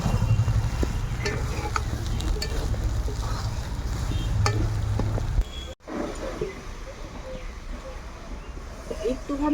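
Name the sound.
stirring and sizzling moong dal with cumin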